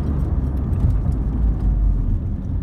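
A Vauxhall Cavalier mk2 1.8i GLSi drives along the road, with a steady low engine rumble and road noise heard from inside the car.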